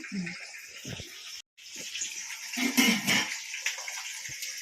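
Water poured into a cooking pot, a hissing gush that starts, breaks off briefly, then resumes louder, with faint voices talking nearby.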